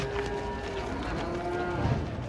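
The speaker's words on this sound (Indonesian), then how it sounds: "Kedatangan sapi banteng." Banteng cattle mooing, a low drawn-out bellow with harmonic tones rising and falling, heard alone over a steady background hum.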